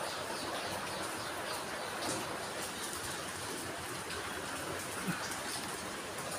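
Steady rain falls outside in a dense, even hiss that holds without pause for the whole stretch, fairly close and moderately loud, with no voices.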